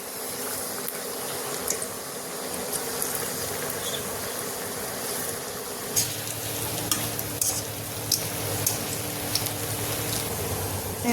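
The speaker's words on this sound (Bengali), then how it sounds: "এইরকম গোল গোল করে পকোড়িগুলো ভেজে নেব।" Pakoras of gram flour and curd batter deep-fry in a kadai of hot oil, a continuous close sizzle with sharp crackles and pops that grow busier partway through, with no talk.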